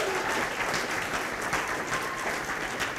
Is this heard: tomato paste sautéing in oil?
no